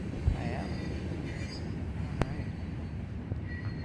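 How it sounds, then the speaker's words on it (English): A train rumbles past in Perth, a steady low roar with a sharp metallic click partway through, heard from nearby with faint background noise. "The train's going through there."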